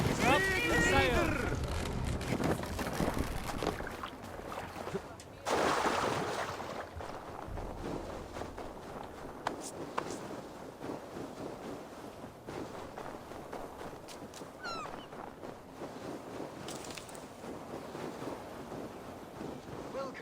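Viking longship under sail on open sea in Assassin's Creed Valhalla, with steady wind and waves washing against the hull, a few louder surges, and voices talking over the water.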